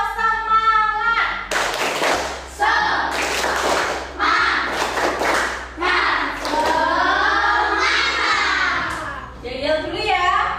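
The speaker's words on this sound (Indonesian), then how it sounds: "Bang akan mengajak tepuk semangat dan yel-yel kelas" Sixth-grade schoolchildren in a classroom chant together and clap their hands in a rhythmic class cheer. The sharp, loud bursts of clapping alternate with their shouted, sing-song voices.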